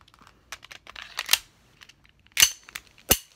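An Elite Force 1911 TAC airsoft pistol with CO2 gas blowback fires two loud, sharp reports close by, with lighter clicks and mechanical handling noises in between.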